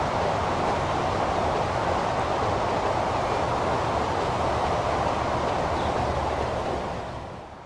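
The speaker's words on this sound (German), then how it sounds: "Dieser Zug mit einer V320 zeigt nun die Baubahn EAOS Waggons mit Steinen als Beladungsanimation." A freight train hauled by a V320 locomotive with Eaos wagons loaded with stones in the Transport Fever game, a continuous loud rumbling roar of wheels and wagons that holds steady and fades slightly at the end.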